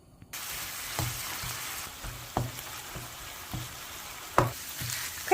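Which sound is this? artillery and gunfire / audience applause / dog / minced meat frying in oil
minced meat frying in oil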